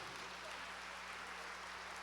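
A church congregation applauds, a dense, even wash of many hands clapping at once, soft and somewhat distant, steady throughout with no break.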